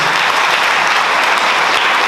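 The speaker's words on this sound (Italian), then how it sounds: "facciamo un applauso" An audience at a local political gathering in Porto Viro breaks into loud, dense applause, a steady wash of clapping with no pauses and no speech.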